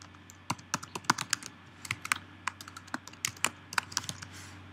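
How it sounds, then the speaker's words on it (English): Typing a blog post title on a computer keyboard, close, crisp key clicks in quick irregular bursts and short pauses, with no speech. "and then you just type in whatever it is you're going to say"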